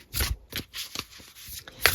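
Tarot cards being shuffled give soft papery riffles and flicks in quick irregular bursts, close and fairly quiet, with no voice.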